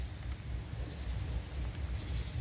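Rain falls outdoors near a railway at night, a steady, soft hiss with low rumbling underneath and a faint constant tone, continuous and even.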